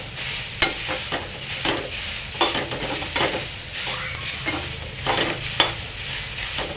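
Onion fries in a pan with a continuous close sizzle, punctuated by repeated scraping knocks of a spoon stirring at an uneven rhythm.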